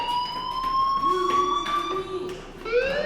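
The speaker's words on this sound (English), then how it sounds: "Hey, do you hear that fire alarm?" A school fire alarm in the video game Life is Strange gives a steady electronic siren-like tone with harmonic layers and a rising shift near the end, loud and continuous.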